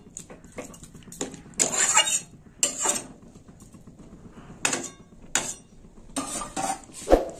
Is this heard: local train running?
no